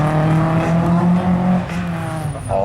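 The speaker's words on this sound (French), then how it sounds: "moteur qui est sur la piste" A Renault Clio race car on a slalom track at D'agon Coutainville roars loudly and close, its engine note rising and falling through the run, with faint talk beneath.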